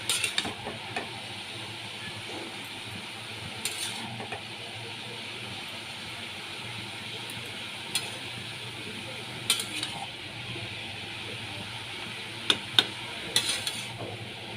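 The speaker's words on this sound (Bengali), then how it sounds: "এক চামচ হলুদ গুঁড়ো দিয়ে দিলাম ভালো করে মিশিয়ে নিচ্ছি" Soft stirring of turmeric powder into a hilsa fish head and ash gourd curry in a pan, a low steady sizzle with occasional faint scrapes and clinks, no talking.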